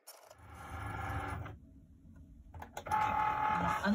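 A Cricut cutting machine cuts heat transfer vinyl at a scrapbook table, heard as a close, mechanical whirring and buzzing in bursts, broken by a brief pause, with no talking.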